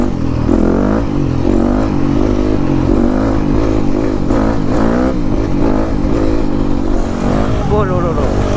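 A Yamaha 250 YZF dirt bike with a newly fitted piston revs hard and loud nearby, its engine note rising and falling continuously through the whole stretch, with rough clattering mechanical texture and no talking.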